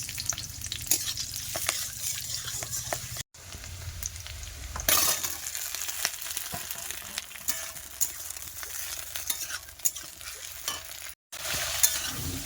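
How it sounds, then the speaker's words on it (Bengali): Chopped onion sizzles steadily in a hot wok (kadai) in a home kitchen, with a spatula scraping and clinking against the metal as it is stirred, close and continuous. "দেবো পেঁয়াজ কুচি"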